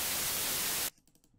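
White noise sample in FL Studio, a loud, bright, even hiss that cuts off abruptly after about a second, leaving faint quiet sounds behind.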